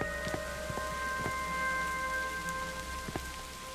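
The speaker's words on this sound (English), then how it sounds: "Oh, it's raining." Rain falls outside in a horror video game: a steady, close hiss of rainfall runs throughout, with faint occasional drip ticks and sustained low tones from the game's background music underneath.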